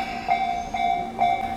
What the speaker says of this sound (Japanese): 電車は塚田駅を発車。